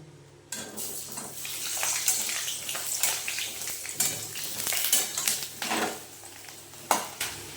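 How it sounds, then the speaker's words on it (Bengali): Diced potato cubes stirred in hot oil for a fish fry dish, with a steady sizzle broken by repeated scraping, clattering stir strokes of a spatula against the pan, close and fairly loud. "আলুটাকে প্রথমে একটু নেড়ে চেড়ে একটু নেড়ে চেড়ে নেব"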